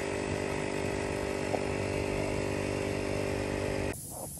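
An air pump drones with a steady motor buzz as it inflates a flat car tire, running evenly for several seconds before switching off near the end.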